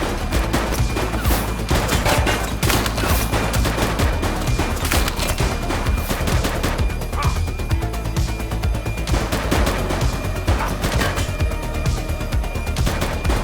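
Dense, nonstop gunfire from a police shootout in the video game The Precinct: rapid overlapping bursts and volleys, loud and close, hammering on continuously with no pauses across the whole stretch.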